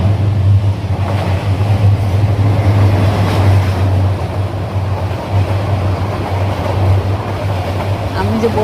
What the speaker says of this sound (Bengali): ওই যে ট্রেন সে যাচ্ছে, আমি বসে বসে দেখতেছিলাম ট্রেন যায়।